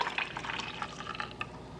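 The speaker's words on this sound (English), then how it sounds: "Pour in my drink" A drink poured into a mug during a home breakfast, a short splashy trickle of liquid with a few faint drips, close and quiet, lasting under two seconds.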